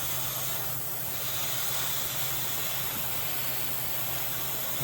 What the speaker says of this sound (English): I'm going to carry on spraying this as thin coats so it dries fast